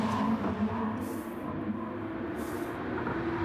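Race cars run along the Tokyo Expressway in a racing video game, a steady droning engine roar with no break, two brief hissing swells passing on top.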